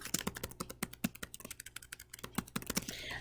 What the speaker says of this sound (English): You're first going to type the date.